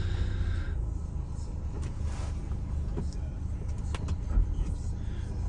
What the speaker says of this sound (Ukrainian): Автомобіль знову ж таки їде